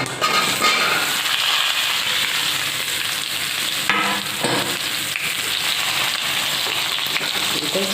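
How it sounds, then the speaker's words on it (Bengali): Fennel seeds and dried mango pieces hit hot oil for a dried mango pickle, setting off a loud, dense crackling sizzle that runs steadily with occasional stirring clatter. "ফোড়ন দিয়ে দিলাম মৌরি দিয়ে আমি আমগুলো দিয়ে"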